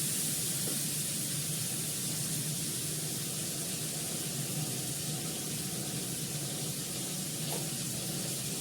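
Tomato, ginger paste and turmeric sizzle steadily in a hot pan, a continuous broad hiss that stays even and moderately loud throughout with no talking.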